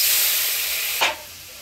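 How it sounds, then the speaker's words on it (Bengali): Water splashes into hot oil with green chillies, black cumin, turmeric and salt for mustard pabda fish, giving a steady hissing sizzle that flares in a brief burst near the end, then settles quieter. "এবার দিয়ে দিচ্ছি সামান্য জল"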